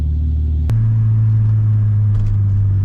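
A BMW E30 drives with a low, steady engine rumble that settles into a firm drone after a sharp click early on, close and continuous.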